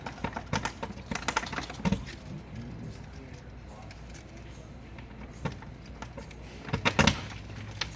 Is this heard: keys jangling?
yes